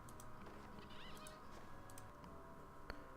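Summoned chickens in The Mighty Quest For Epic Loot give quiet, scattered clucks and short squawks over a soft game ambience, with a few sharp clicks in between.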